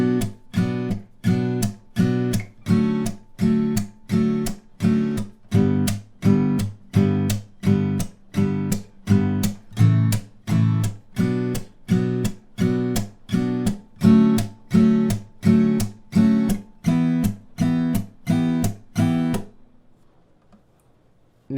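Steady palm-muted acoustic guitar down-strums beat through the last chorus of a song, about two crisp chops per second over some twenty seconds, then stop abruptly.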